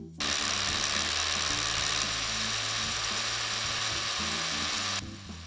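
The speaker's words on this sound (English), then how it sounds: "the sound changes when you go from concrete to rebar back to concrete" A rotary hammer with a Diablo rebar-cutting bit drills through concrete and rebar, a steady, grinding mechanical drone with a rapid ratcheting rattle, loud and continuous, then cuts off abruptly near the end.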